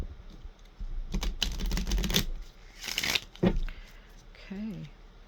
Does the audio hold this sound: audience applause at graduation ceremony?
no